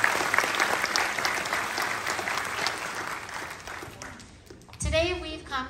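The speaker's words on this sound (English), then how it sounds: "Let's give them a big round of applause." Audience at a preschool graduation gives the young graduates a warm round of applause that swells and then fades over about four seconds, followed by an adult voice speaking over the tail end.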